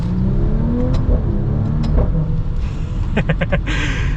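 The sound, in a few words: Maserati Levante V6 SUV accelerating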